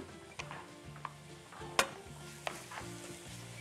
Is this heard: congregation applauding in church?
no